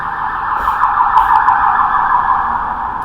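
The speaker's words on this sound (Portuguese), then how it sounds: "Vez ou outra vai passar uma ambulância" An ambulance siren wails steadily along a city-centre street in Belém, loud and sustained throughout with faint traffic beneath it.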